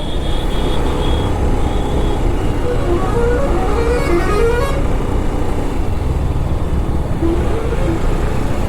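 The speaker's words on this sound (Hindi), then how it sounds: "जगह जगह में ट्रक के ट्रैफिक बहुत है यहाँ पर।" Heavy truck traffic on a highway near the Bihar–Uttar Pradesh border, heard from a BMW G310RR motorcycle on the Patna to Lucknow ride: a steady, loud roar of engines and wind throughout, with a brief horn-like tone near the start and no talk.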